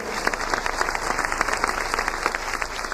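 A church congregation at a sermon breaks into lively, continuous clapping, a dense crowd of hands at close range with no speech over it.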